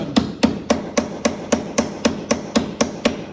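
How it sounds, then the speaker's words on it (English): Twelve evenly spaced sharp metallic taps from a small hammer striking an extractor tool seated on a rusted Jeep windshield bolt, close and steady in rhythm with no voices. "I'm gonna hit on a little hammer, a little harder"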